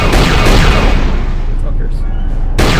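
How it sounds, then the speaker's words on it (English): Onderon ships firing blasters at merchant vessels during a space blockade battle in the Star Wars game KOTOR 2, a loud, dense barrage of booming shots that tails off, then a fresh burst near the end. "you see the Onderon ships firing at the, merchants"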